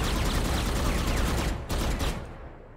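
Rapid automatic gunfire from a Valorant match, a dense continuous burst of loud shots for about a second and a half, then a brief gap and a few more shots fading into a quieter tail.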